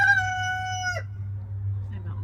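A rooster crows once, close and loud, in a backyard chicken area that also houses rabbits, the call cutting off sharply over a steady low hum, followed by faint clucking.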